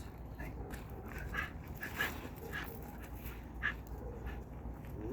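A dog whimpers and whines in short, high, nasal bursts during a training session, several soft cries spaced irregularly over a few seconds, close by and fairly quiet, with no talking.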